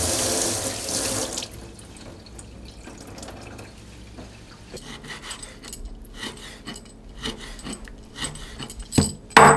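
A tap runs into a sink while seafood for jangji jeotgal, a Tongyeong-style salted fish gut dish, is rinsed; a loud gush at first settles into softer trickling, splashing and rubbing, ending in a couple of louder splashes, with no voices.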